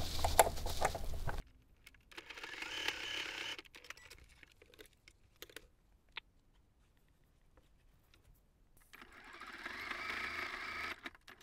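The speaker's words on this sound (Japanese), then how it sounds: "ここで縫っておきます" A sewing machine stitches a fabric pouch made from Daiso materials, running in a loud burst at the start, again briefly around two to three seconds, and in a final steady run near the end, with quiet handling between.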